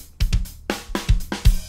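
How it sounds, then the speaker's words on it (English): A drum struck with a drumstick gives a series of sharp, booming hits in an uneven rhythm, loud and close, with no talking. "when you take the drumstick, the exciter, and you hit the drum, it sounds like this"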